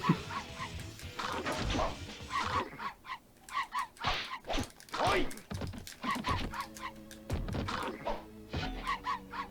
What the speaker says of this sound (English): And this damn dog is being annoying.